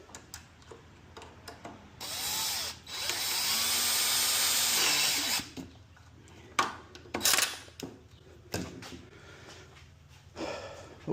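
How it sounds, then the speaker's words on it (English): A power drill bores pocket holes into pallet wood cross braces for a garden bed frame, a loud sustained whine of about three seconds followed by shorter bursts and a few brief drill runs near the end, with no talk. "So we got to drill some pocket holes in these"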